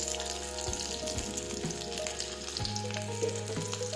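Green chillies fry in oil in a pan, giving a steady, close crackling sizzle with small pops, and no voices.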